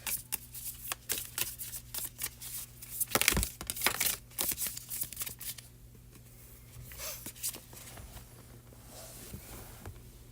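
Tarot cards shuffled by hand in quick riffling bursts, close and crisp, with a busier flurry midway before the handling quiets to softer rustles.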